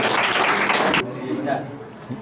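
Applause for a class 9 student speaker at a school event, a dense burst of clapping for about a second that cuts off abruptly, followed by room murmur and a voice.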